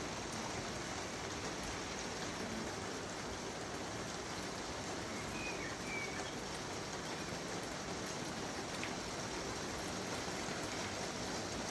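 Steady, heavy rain pours down continuously, a dense hiss of drops with no pauses and no voices.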